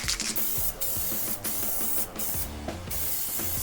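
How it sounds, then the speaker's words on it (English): Steady hiss of spray primer from a can onto a pickup truck in several bursts, each cut by brief pauses, close up and fairly loud, with a faint rumble underneath. "So let's start spraying again."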